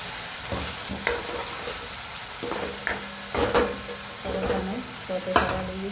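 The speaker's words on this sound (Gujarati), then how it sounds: "ડુંગળીને થોડી ઘણી સોતે થઈ ગઈ છે" Onion, garlic cloves, tomato and green chili sauté in a hot pan, giving a steady close sizzle broken by several scraping stirs of a spoon against the metal, with no talking.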